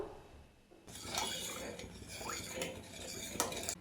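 Kambu and ragi flour mix stirred in boiling water over a medium flame, a spoon scraping and clinking against the pot in quick irregular strokes, close and fairly quiet, with no talking.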